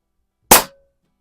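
A single sharp shot from a Pinty Striker .25 caliber bullpup air rifle, loud and close, a crisp pop that dies away within a quarter second into silence.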